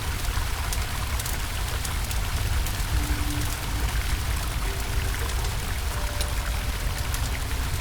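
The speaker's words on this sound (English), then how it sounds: "We have rushing water." Rushing water in a cave bathroom in the game The Longing, a steady dense hiss of flowing, splashing water running continuously without pause and with no voices.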